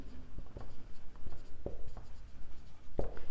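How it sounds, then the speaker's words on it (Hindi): Marker or chalk writing on a board during a class 12 magnetism lecture, a few short scattered strokes and taps, close and fairly quiet. "मैं यहाँ पे 2-4 चीज़ें और लिख दूँ"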